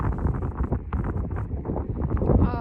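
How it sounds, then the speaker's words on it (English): Strong gusty wind buffeting the microphone high on a mountain in Glacier National Park, a continuous loud roar with no speech. "Oh, it's so windy out."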